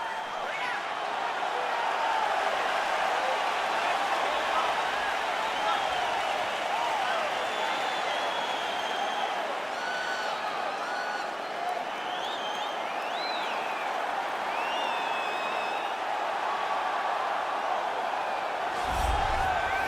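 A sold-out arena crowd at a UFC 4 flyweight title fight, a constant wash of cheering, whooping and applause heard from within the venue, with commentators talking over it throughout.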